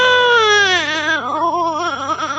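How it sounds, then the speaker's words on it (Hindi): A baby cries loudly in a cartoon story, with long wailing sobs that rise and fall and grow more insistent, close and alone with no other sounds. "कुछ ही पलों में रोने की आवाज फिर से आने लगती है, और इस बार और भी तेज"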